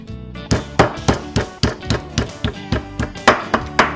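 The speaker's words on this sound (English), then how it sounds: "just give them a few whacks with your meat mallet" Meat mallet whacking wild turkey strips, about a dozen sharp, fairly even strikes at a steady rhythm, loud and close with no talk.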